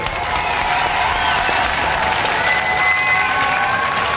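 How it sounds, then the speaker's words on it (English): A studio audience at a Robot Wars heat bursts into a sustained, dense round of applause, loud and even throughout with no break. "give a round of applause for the Morgue posse"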